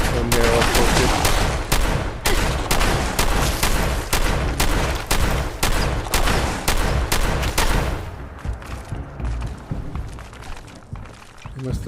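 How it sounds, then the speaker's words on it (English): Rapid volleys of explosions and gunfire from a VR video game played on a manual treadmill, loud dense bursts at a steady clip for about eight seconds, then thinning into scattered, quieter blasts with a lingering rumble. "That explosion."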